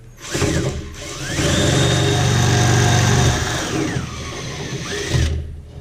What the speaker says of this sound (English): I pre-drilled a hole in there. Now I'll just come up through.